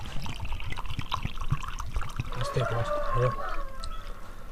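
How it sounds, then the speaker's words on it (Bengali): Water poured into a bowl of Glucon-D powder being mixed for homemade ice cream, a soft close trickle and splash under a person talking. "এবার জল দিয়ে দেবো।"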